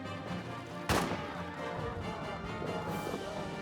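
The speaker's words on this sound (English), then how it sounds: "Beautiful artillery shells." Artillery shells exploding in the trench warfare game All Quiet in the Trenches: one sharp, loud blast near the start cuts through a busy battlefield rumble, followed by fainter distant thuds and scattered crackling.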